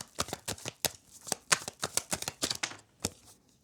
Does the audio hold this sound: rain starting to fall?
no